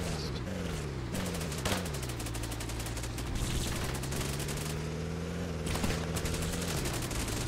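A vehicle-mounted weapon fires continuously in Cepheus Protocol, a dense, rapid rattle of gunfire over a droning engine tone that rises and falls, close and loud throughout.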